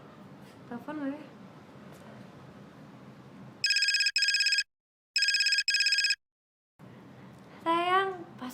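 A phone ringtone plays loud and close in two bursts of electronic trilling with a silent gap between them. Muffled talk and a brief voice come before and after.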